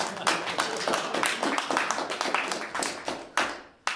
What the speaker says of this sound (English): We should clap for